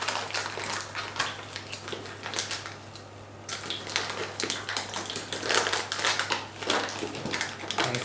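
A spoon's back crushes and taps lumps of bread soda in a kitchen, giving steady, close scraping and clicking with small sharp taps throughout, over a faint low hum.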